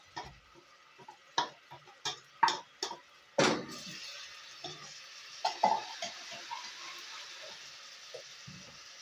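Hand-blended onions sizzle in oil in a pot, with a series of sharp stirring clacks and ticks early on, then a softer steady sizzle with occasional scrapes.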